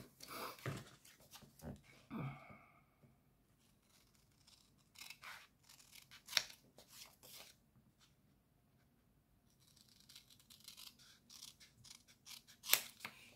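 Scissors cutting card for an autumn greeting card, heard as a series of quiet, crisp snips close up, with soft speech at times and stretches of near silence between cuts.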